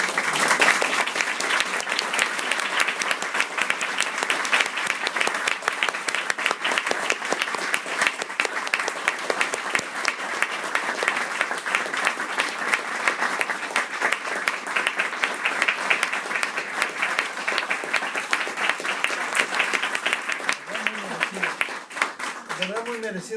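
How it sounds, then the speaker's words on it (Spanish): Sustained audience applause for author Gori at a book presentation on the Camino de Santiago, steady dense clapping for over twenty seconds, with a voice starting up as it fades near the end. "Muy merecidos esos aplausos para Gori"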